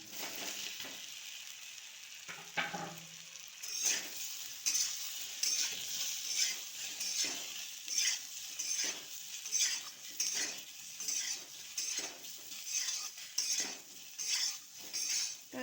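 Vegetables fry in a pan with curry leaves, turmeric and chilli powder, a steady close sizzle overlaid by rhythmic scraping clinks of a utensil stirring against the metal pan.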